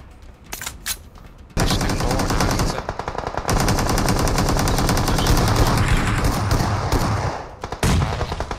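Rapid automatic gunfire bursts from the mobile battle-royale game PUBG Mobile, loud and dense, with a short quieter stretch before sustained firing resumes in long continuous volleys.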